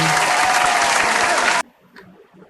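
Audience applause at a Thrissur exhibition gathering, a dense sustained clapping that fills the room for about a second and a half, then stops abruptly, leaving faint background murmur.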